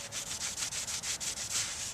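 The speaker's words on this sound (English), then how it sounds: "I'll use a razor to get rid of any debris on this gasket surface on the transmission itself" A razor blade scrapes debris off a transmission gasket surface on a 1978 Dodge RV, a steady rhythmic series of close, gritty back-and-forth strokes with no talking.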